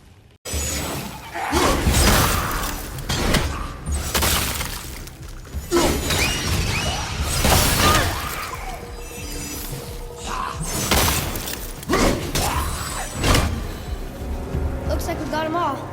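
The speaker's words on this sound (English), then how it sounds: "I will never get tired of shattering things with this." Objects shatter and crash in the God of War video game, with repeated sharp breaking bursts and thuds over a busy, continuous layer of game sound and voices.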